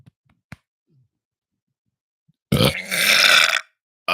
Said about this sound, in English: you just caught me into middle of burping